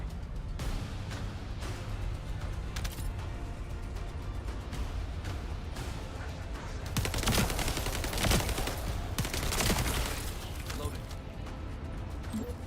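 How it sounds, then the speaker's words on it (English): Hand cannon gunfire rings out in The First Descendant video game, with rapid, dense bursts of shots over steady battle noise that grow heavier in the middle. Someone talks throughout over the firing. "The hand cannons are so much fun to use."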